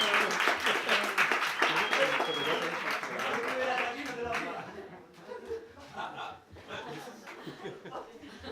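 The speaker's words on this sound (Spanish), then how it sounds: "Venga, dale un aplauso" An audience at a teaching session breaks into dense applause mixed with laughter, loud at first and then thinning into scattered claps and chuckles while voices talk over it.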